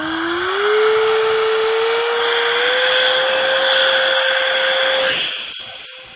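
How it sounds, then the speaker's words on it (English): An electric ducted fan on a 1700mm HobbyKing Hall Cherokee RC glider spins up with an unbalanced whine that rises in pitch and holds steady for several seconds, close and loud, before cutting back. "The fan doesn't sound balanced at all."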